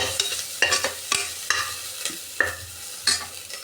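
Vegetables sautéing in a frying pan while being stirred, rapid close clatters and scrapes of a spoon against the pan, repeated in quick uneven bursts over a continuous sizzle, no speech.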